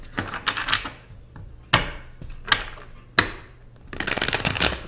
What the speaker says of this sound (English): I already pre-shuffled, but I'm going to shuffle a little bit more